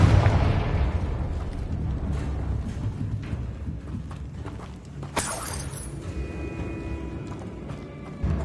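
A Confringo spell explodes in a Hogwarts video game, a sudden bright burst with a crackling, shattering tail over a dense, rumbling game soundscape, fairly loud and close.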